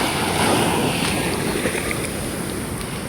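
Seaside waves wash in a continuous, full rush with steady wind noise on the microphone, close and loud throughout, and no voices.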